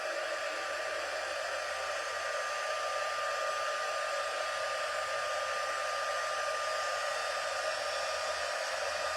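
Heat embossing tool blowing hot air onto a stamped card with silver embossing powder, a constant steady roar held unbroken throughout, close and alone.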